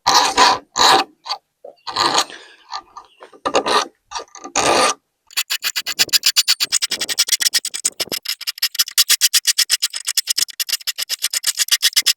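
A chainsaw file is rasped rapidly across the edge of a carpet scraper blade, giving fast, even back-and-forth scraping strokes, close and loud, after several slower separate scrapes.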